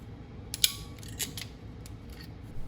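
A crimping tool squeezes a wire connector onto the hot wire of a power cord for a Bissell Spotclean Pro, giving a few sharp, close metallic clicks and a brief creak over a quiet background.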